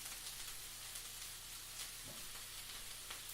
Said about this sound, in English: Nice little saute, right on the high heat.